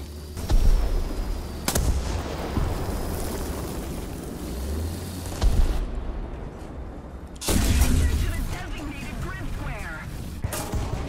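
Tank cannon fire in War Thunder from an M60, heavy low booms at the start, near two seconds and again near seven and a half seconds, over a steady engine rumble with someone talking throughout.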